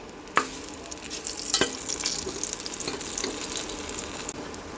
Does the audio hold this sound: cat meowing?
no